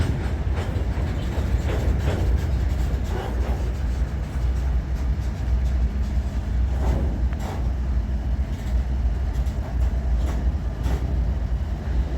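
A long coal train rolls past, a steady, fairly loud rumble of wheels and wagons with scattered clicks and knocks, no voices.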